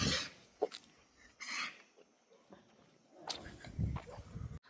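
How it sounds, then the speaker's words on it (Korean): A dog in rural Meinong, Kaohsiung, Taiwan, gives a few yips and whimpering barks at moderate distance, mixed with footsteps and faint voices nearby. "앞에 맹견이 있어"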